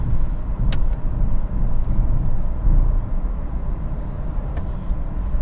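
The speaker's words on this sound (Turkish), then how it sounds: "Yine biraz lastik sesi var dediğim gibi." A BMW 418i Prestige F36 cruising in sixth gear at highway speed, giving a constant low rumble of road and tire noise inside the cabin, with no talking.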